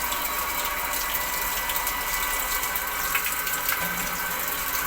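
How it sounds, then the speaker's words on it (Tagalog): A Mitsushi 0.5 hp electric water pump draws water: a constant, fairly loud rushing, gurgling flow with a steady mechanical hum underneath, running unbroken and without speech. "humihigop na yung water pump natin ng tubig"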